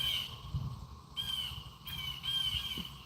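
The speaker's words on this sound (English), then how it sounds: "Sounds like the crows agree" A few crows caw outdoors, harsh calls rising now and then over a steady hiss of background noise, fairly distant and with no voices.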